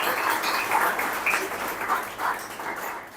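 Audience applause at a Parsi community jashan ceremony, a steady broad clapping that fills the whole stretch at moderate loudness, with no talk over it.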